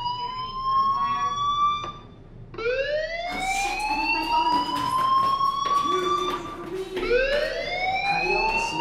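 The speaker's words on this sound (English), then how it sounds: "Hey, do you hear that fire alarm? That means you should be outside." A fire alarm wails in rising, sweeping tones that repeat in several long cycles, loud and steady with brief gaps between sweeps and no talk over it.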